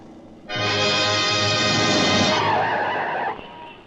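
A taxi screeches as it speeds and skids in a film chase, a loud, sustained tyre squeal that bursts in abruptly, holds for almost three seconds, then cuts off.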